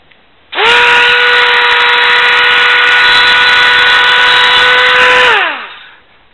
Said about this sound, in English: I'm in the process of cutting down the two sides. I'm using this dremel small toothed bit.